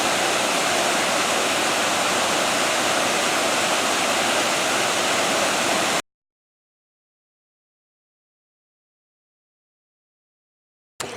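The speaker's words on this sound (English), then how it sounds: "Pretty little arched bridge right above the main part of this waterfall." A waterfall pours beneath a small arched bridge, giving a steady, loud rushing roar that runs for about six seconds and then cuts off abruptly into silence.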